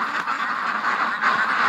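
Ducks quack in a quick, continuous chatter on a cold winter morning, several birds close by calling over one another.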